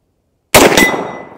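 A single sharp, loud gunshot from a Marlin lever-action rifle firing a hot-loaded 240 grain Hornady XTP round, close by, followed by a quick echo and a decaying outdoor reverberation.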